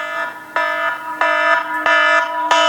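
A loud electronic alarm ringtone from a smart jewelry phone app sounds in repeated bursts, each burst a bright, harsh, buzzing multi-tone blare, about five in quick succession.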